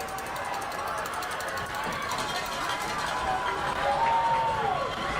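High school football crowd at a Nixa at Webb City game cheering from the stands, a steady, fairly distant roar of voices and whoops that swells slightly toward the end, with speech audible over it.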